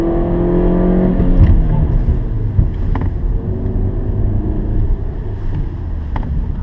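A 2017 Ford Ka+ driven hard around a race track, its engine a steady loud drone with wind rush across the microphone, easing slightly as the car slows into a corner.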